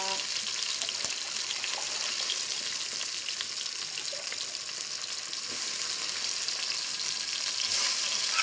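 Ginger paste frying in a pan for chicken biryani, a steady, dense sizzle running throughout with faint stirring scrapes and no pauses.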